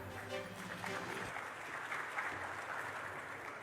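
Audience at the opening ceremony of Trade Expo Indonesia 2025 applauding, a steady wash of clapping from a large crowd heard from a distance, with a brief voice or tone at the start.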